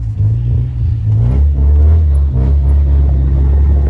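A Honda car engine revs through its exhaust, a loud, deep, close rumble that swells and holds steadily throughout, with no talking.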